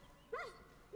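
One short, faint yip or whine from a dog in the video game Far Cry New Dawn, alone against quiet game ambience.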